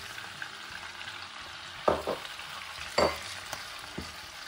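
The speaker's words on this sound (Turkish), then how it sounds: "Şekerimizin rengi kahverengiye dönene kadar kavuruyoruz." Sugar roasting in melted butter in a pan gives a quiet, steady sizzle with a few soft scraping stirs, close up and without speech.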